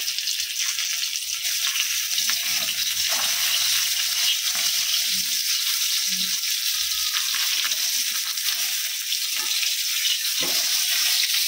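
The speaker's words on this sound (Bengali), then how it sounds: "এই যে মাছ ভাজা হচ্ছে" Fish frying in a little pure mustard oil in a home kitchen pan, a steady broadband sizzle running continuously and evenly from start to finish, with a few faint clinks underneath and no talking.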